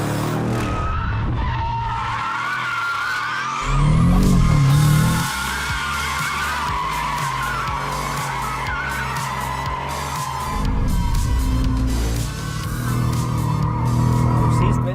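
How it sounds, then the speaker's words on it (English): A 1001 bhp MTM-tuned Audi RS6 drifts with long, loud tire squeal over a roaring engine, surging harder in two bursts midway and near the end. "Do you think we'll ever get a drift or a donut with this car?"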